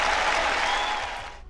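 Loud, dense applause on a live tech show rolls on steadily, then thins out and fades near the end.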